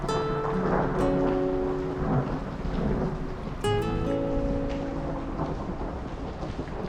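Rain and a thunderstorm rumble behind a drama scene, steady downpour with low thunder beneath tonal music-like accents, no clear talk over it.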